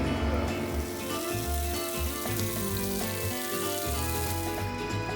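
Pressurized water sprays from a homemade tube sprayer fitted to a Jeep to wash dishes, giving a steady hiss and splatter that runs throughout at moderate loudness, with no talking.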